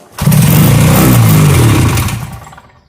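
An old Rupp 440cc Sprint snowmobile engine, long unused, catches and roars up loudly, revving with a rough clattering two-stroke blat for about two seconds before winding down and dying out.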